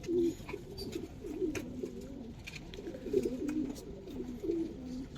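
Coloured pigeons coo repeatedly in soft, rolling phrases at a pigeon farm in Bangladesh, close by and over a light background hum.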